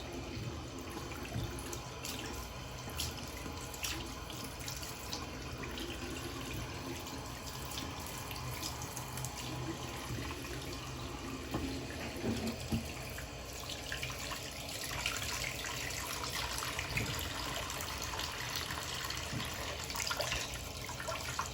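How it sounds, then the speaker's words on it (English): Tap water runs steadily into a basin being filled for a pet hedgehog's bath, a soft continuous splashing rush heard close by with no talking. "You don't want to fill up the water too high"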